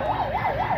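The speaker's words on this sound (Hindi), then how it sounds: "ये पुलिस की गाड़ी आ रही है।" A police car siren wails in a steady rising-and-falling cycle, loud and continuous, passing near a zoo with no talking over it.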